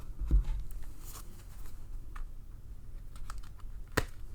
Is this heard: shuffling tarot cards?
yes